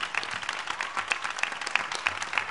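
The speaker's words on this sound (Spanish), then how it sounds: "Este aplauso para ella." Audience applause for a young woman dancing again after many years, at a flamenco-style Jerez show, with distinct individual claps cutting through a lighter wash of clapping, fairly close and brisk.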